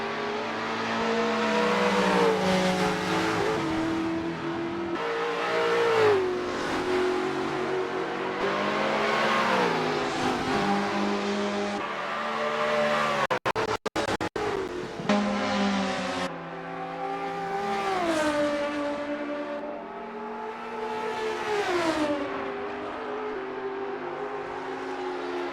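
Race cars roar continuously around the Symmons Plains circuit in a racing video game, engines rising and falling through gear changes with loud, close revving and overlapping cars throughout.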